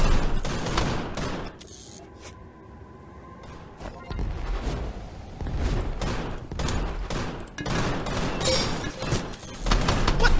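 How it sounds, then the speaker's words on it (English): Rapid gunfire in the VR shooter Gun Raiders, a dense run of sharp shots through most of the stretch with a brief lull near the start, loud and close. "What? That was 3 shots!"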